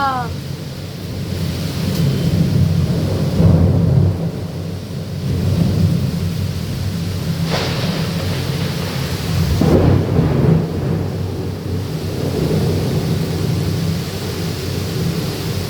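Loud thunder cracks and rolling booms during a cyclone, with several strikes over steady heavy rain pouring nearby; no voices stand out.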